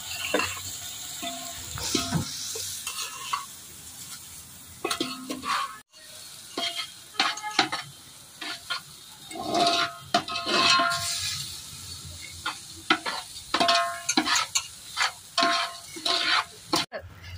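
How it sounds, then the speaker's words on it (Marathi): Soaked rice being roasted in ghee with cloves and black pepper for kheer, with a steady low sizzle and intermittent scraping, stirring and clinks of a spoon against the pan. "4 भिजून ठेवलेले तांदूळ अर्धा तास, आता ते शेकवायचे खिरीसाठी।"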